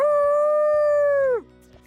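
A werewolf in The Sims 4 lets out one loud, sustained howl that holds steady, then drops and fades out near the end, followed by quiet.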